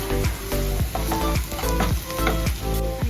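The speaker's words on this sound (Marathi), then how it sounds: "सो आपला घाटी मसाला, कांदा लसूण मसाला ॲक्च्युली तो आपण परतून घेऊया." Onion-garlic ghati masala sautéing in hot oil for a green cluster bean vegetable, a steady loud sizzle and fry with repeated scraping stirs throughout, no talk.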